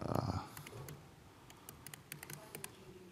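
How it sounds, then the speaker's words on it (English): A computer keyboard is typed on during a live coding talk, giving a quick scatter of light, close clicks and key taps after a short low thump at the start, with no speech over them. "Typing too much."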